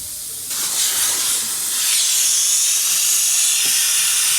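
A WD-40 spray can hisses continuously onto a bolt during rear coil spring work on a 2003 Audi A2, a close, loud, steady spray that begins abruptly and runs to the end.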